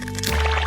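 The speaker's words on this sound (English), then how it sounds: "and crack an egg" An egg cracked into a bowl already holding flour and milk for a cooking challenge: a brief crack followed by a wet, squishy plop over a steady low hum, with no talking.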